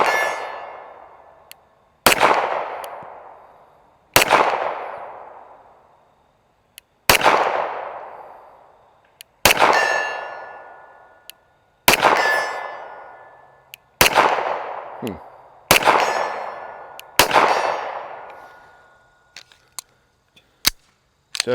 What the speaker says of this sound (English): Again, that's a 50-yard shot on steel